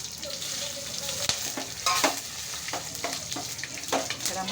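Whole spices such as bay leaf, black cardamom and poppy seeds sizzle steadily in hot oil in a pan for homemade chicken masala, with scattered clinks and scrapes of stirring over a constant frying hiss.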